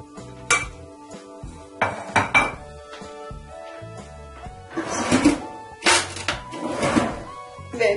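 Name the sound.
stirring chocolate truffle mixture in a bowl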